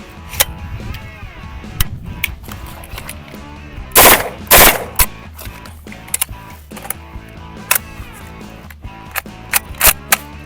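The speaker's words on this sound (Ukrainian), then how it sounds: "зброя стріляє дуже м'яко, вона досить голосно ляпає" An MP5 replica gun fires short bursts of sharp, loud slapping shots, with one dense cluster in the middle and scattered single and paired shots around it, heard up close outdoors.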